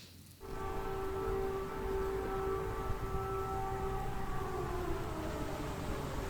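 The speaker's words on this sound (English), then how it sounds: "you can hear the air raid alarm going off" An air raid alarm siren in Kyiv sounds a steady, sustained wail over low city rumble, sounding somewhat distant, starting abruptly and holding for several seconds with no speech.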